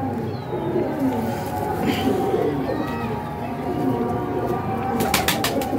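Pigeons at a pigeon-keeping club, low cooing steady over a busy outdoor background, with people talking nearby and a brief fluttery burst near the end.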